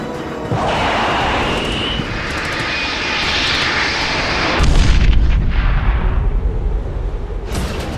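A loud, steady aircraft engine drone fills the air, then a heavy low boom erupts as a Predator drone's Hellfire missile strikes an enemy bunker, rumbling on afterward.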